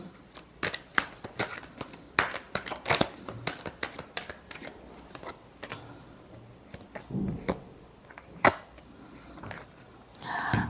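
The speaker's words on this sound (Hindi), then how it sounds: "एक से 10 फरवरी तक, लास्ट शफल।" Tarot cards shuffled during a love reading, heard as a quick series of crisp riffling snaps and flicks with short pauses between bursts, close and fairly quiet with no voice.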